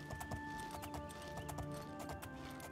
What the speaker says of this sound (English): Go up here, horsey.